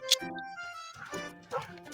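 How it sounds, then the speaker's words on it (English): A dog in the Love and Deepspace otome game gives a few short yelping barks with whiny, tonal cries, close and moderately loud, with a voice talking in the same stretch. "That's Dr. Noah's dog."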